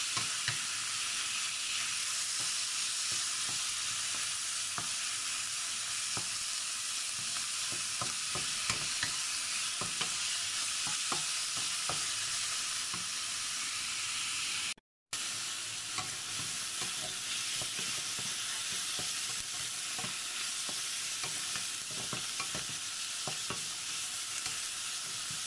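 Chicken pieces browning in a hot pan, a loud continuous sizzle and crackle with scattered pops and stirring scrapes, steady throughout apart from one brief cut to silence midway.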